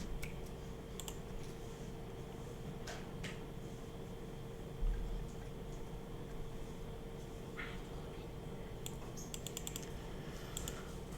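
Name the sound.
typing on a new computer keyboard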